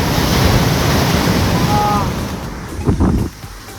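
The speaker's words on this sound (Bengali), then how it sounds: "জলের আওয়াজটা দেখো খালি" Sea waves roll and wash onto the beach at Digha in a loud, close roar with wind buffeting the microphone, the surge easing and a voice briefly breaking in near the end.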